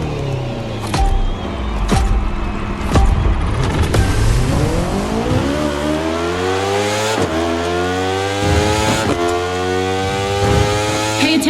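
Racing motorcycle engine in The Crew Motorfest, revving hard and climbing through gears with rising whine, sharp shift breaks and repeated acceleration pulls, loud and close throughout.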